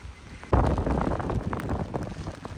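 Strong seaside wind with rain on the Normandy coast at Trouville and Deauville roars and buffets the microphone, starting abruptly and continuing as a heavy, gusting rumble.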